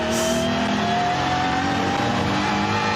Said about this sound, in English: He used all the revs in qualifying mode.